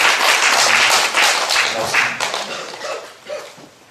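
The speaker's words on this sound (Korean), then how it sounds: "하나님 앞에 큰 박수 올려드리십시오" A congregation at a Korean church lecture gives loud, dense clapping that gradually fades over a few seconds.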